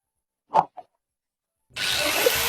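A saw cuts steadily and loudly in a continuous rasping stroke, preceded by two brief knocks and a moment of silence.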